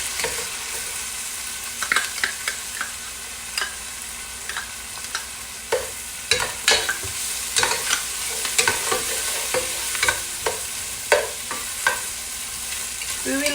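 Chopped onion and garlic sizzle and crackle in a tablespoon of hot oil for beef caldereta, with steady frying hiss and repeated sharp scrapes of a spoon stirring the pan, loud and close with no talking.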